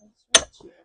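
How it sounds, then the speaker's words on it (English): A framing hammer strikes greenhouse end wall framing twice, two sharp, close, loud whacks about half a second apart, with faint low voice sounds between them. "I've just been using a framing hammer"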